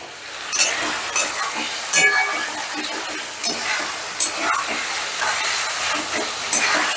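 Fried potatoes are stirred into a sizzling spice masala for a moong dal aloo dum. Brisk frying crackle runs under repeated scraping strokes of a spoon against the pan, close and fairly loud.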